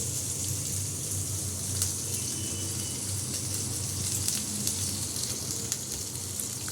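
Ground nut paste goes into a hot pan and sizzles in a dense, even hiss of frying that holds steady and fairly loud throughout, with no voices.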